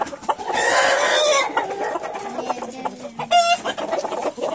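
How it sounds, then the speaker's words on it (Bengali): Fighter-breed chickens on a farm cluck loudly and close, with a drawn-out crow and scattered calls from other birds around them. "এই যে বের হচ্ছে আপনাদের চমৎকার মুরগি ফাইটার, খুবই ভয়ঙ্কর।"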